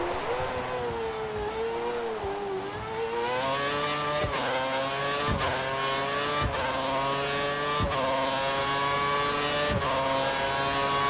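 A Formula 1 car engine in the F1 2013 racing game during qualifying at Kuala Lumpur. It gives a high, sustained whine that rises and falls, with sharp, regular gear-shift breaks and no talk.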